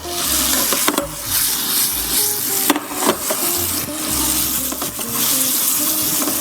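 Vinegar and sugar sizzle steadily in a hot pan over a high flame, a continuous close frying hiss with occasional stirring scrapes, heard alone without talk.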